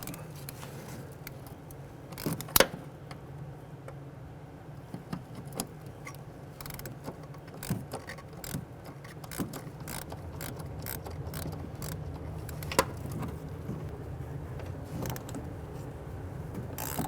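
A wrench or ratchet loosens the nut on a shock absorber of a 2008-2013 Infiniti G37 during a shock replacement, giving scattered close clicks and creaks over a low steady workshop hum.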